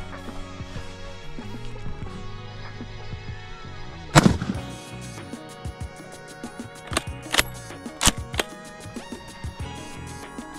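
A decades-old, hard-recoiling rifle fires one loud, booming shot, followed by several sharper cracks and clicks over a steady musical background.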